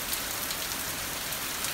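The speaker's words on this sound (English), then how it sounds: "you can focus on the sound of the rain" Steady, close rain patters densely on a surface, a continuous even hiss with soft drop detail and no voices, used as a calming meditation backdrop.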